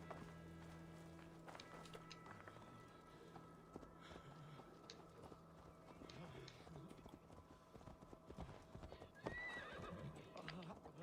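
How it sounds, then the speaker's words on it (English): A horse's hooves clip-clop at a steady walking pace with an occasional whinny, set against a faint musical and ambient background in the video game Assassin's Creed Valhalla. "Oh, I guess this is my horse."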